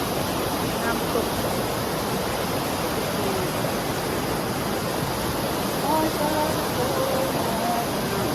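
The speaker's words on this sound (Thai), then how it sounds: "น้ำตก" Waterfall at a cave site, a steady broadband rush of falling water that fills the whole clip without a break, with faint voices occasionally heard over it.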